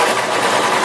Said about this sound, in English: You can also just take your sewing machine and sew straight across the edge